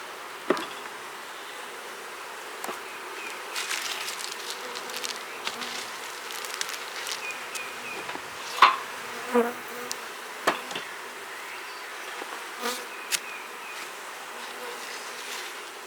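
Honey bees buzzing steadily around an opened hive during poor weather, a continuous soft drone with individual bees passing close now and then, plus a few faint knocks and clicks.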